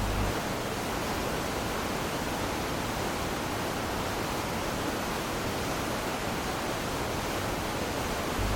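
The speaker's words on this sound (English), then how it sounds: "the waterfall that hid it from Morgoth" A waterfall screening a hidden cavern roars without pause, a dense, even wash of rushing water, loud and close, with no voices.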